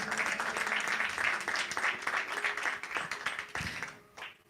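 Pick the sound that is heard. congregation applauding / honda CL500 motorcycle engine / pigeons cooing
congregation applauding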